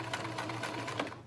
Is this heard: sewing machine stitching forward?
yes